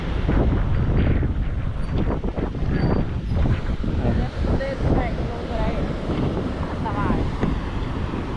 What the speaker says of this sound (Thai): ลมพัดนะทุกคนลมพัดแห้ง